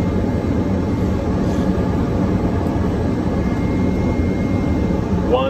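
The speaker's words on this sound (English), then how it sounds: "Gotta sneak that airplane onto the runway." Hawker 800 XP business jet landing on a runway at night, a steady loud broadband jet engine roar with low rumble running throughout, no clear touchdown thump.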